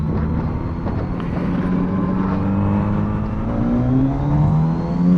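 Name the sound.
Kawasaki Z900RS motorcycle engine revving under throttle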